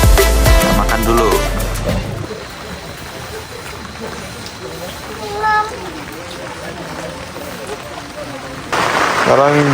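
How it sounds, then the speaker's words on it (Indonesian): Rain falls outside at a resort, a soft, steady hiss that runs throughout, with voices and tonal sounds over it at the start and again near the end. "Masih hujan di luar guys."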